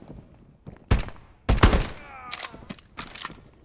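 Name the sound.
scouts reloading weapons in the video game Exfilzone VR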